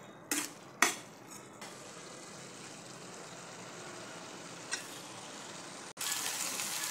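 Peanut powder being stirred into an ivy gourd stir-fry in a pan, with a few sharp spatula scrapes and clinks against the metal over a steady soft sizzle.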